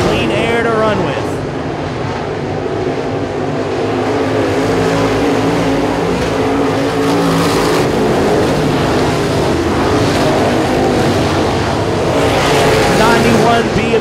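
Stock race cars roar around the Sabine Speedway oval during a regular race program, a loud, sustained engine drone with rising and falling passes, while an announcer talks over the racing.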